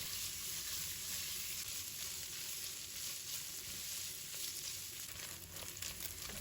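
Pork belly fries in oil in a wok over high heat, a steady, loud sizzle that runs unbroken throughout with no voices.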